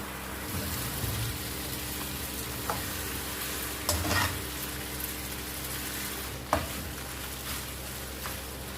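Noodles stirred through a sauced pan, a soft continuous sizzle under a low steady hum, broken by a few louder scraping clatters of the spatula spaced several seconds apart.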